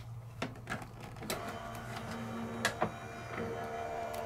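A manual die-cutting machine is cranked by hand to cut through a Spellbinders die: a steady mechanical hum with a few sharp clicks and clacks of the rollers and plates, close and fairly quiet, with no one speaking.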